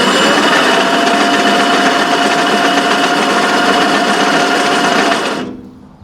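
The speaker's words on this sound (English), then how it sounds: "So now let's get the aerator powered on again, battery in there, and then here's our throttle." A Camon EA25 battery-powered lawn aerator runs with a loud, steady, high-pitched electric whir close by, then winds down and stops abruptly near the end.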